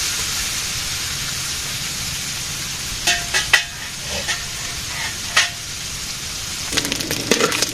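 Dried fish (shutki) fries in a pan in a Bangladeshi village kitchen, a steady soft hiss throughout, broken by a few sharper crackles and spatters and a brief burst of popping near the end; no one speaks.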